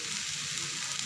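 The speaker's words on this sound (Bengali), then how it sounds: "পাঁচফোড়ন হালকা ভেজে নেওয়া হয়ে গেলে এবার আমি আলুগুলো দিয়ে দিচ্ছি" Potato pieces drop into hot oil already frying panch phoron, giving a steady, dense sizzle that holds at an even level throughout, close up and with no voices.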